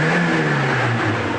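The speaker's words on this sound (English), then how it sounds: "get the engine running hot, and then boot the throttle as hard as you can" A hot Saab 900 turbo engine from 1998 revving hard at full throttle, a loud, steady, close mechanical roar that holds at high pitch with no voices over it.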